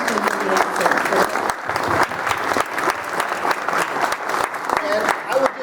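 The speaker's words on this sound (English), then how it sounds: "we certainly want to give you a round of applause" Audience applause at a Vietnam veterans panel discussion, dense sustained clapping from a crowd filling the room, with a voice speaking over it.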